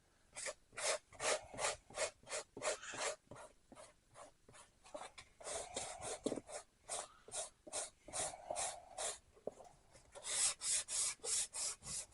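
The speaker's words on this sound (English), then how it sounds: "what we're going to do is just sand this down a little bit, get it nice and smooth so we're ready for painting" A 3M fine sanding block rubs back and forth across a terrain display base, making a steady series of raspy scraping strokes that briefly slow midway and then pick up again quickly.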